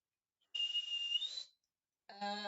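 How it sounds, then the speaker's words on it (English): Shrill whistle sounds from a distance down a hallway, a faint sustained tone that rises at its end, followed after a pause by a harsher buzzing tone. "You hear a very shrill whistle"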